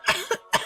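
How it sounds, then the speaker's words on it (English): A short burst of coughing in a sushi bar as dust flies, three quick rough hacks in close succession, near and fairly quiet, with no other sound around it. "and I end up coughing."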